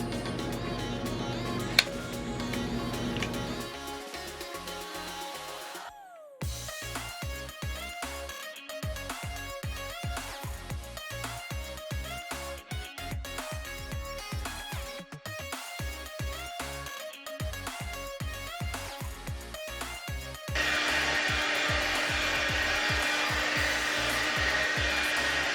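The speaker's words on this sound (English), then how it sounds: "And then I'm going to keep on drying my hair." A hair dryer on a warm setting blows hair dry as a steady whooshing roar that swells loudly toward the end, with rhythmic background music under it.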